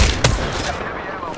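Video game gunfire with heavy ammo: a loud burst of shots at the start, then a few more fading impacts against a noisy, busy background.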